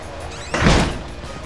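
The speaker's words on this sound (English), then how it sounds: "Sometimes I wonder if it's a bad idea to just close those doors like that" A heavy door swings shut with a single dull thunk inside the dark asylum of the horror video game Outlast, rising abruptly and then trailing off into a low rumbling ambience.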